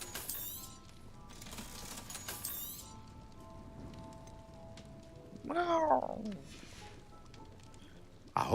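A cat meows once in the middle of Hogwarts Legacy gameplay, rising and falling over background music and game ambience, with a sharp clink at the very end.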